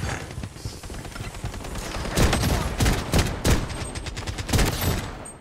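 Desert Eagle pistol shots ring out in the shooter game Blood Strike, a string of sharp, loud cracks fired in quick, uneven succession over a busy game-sound background.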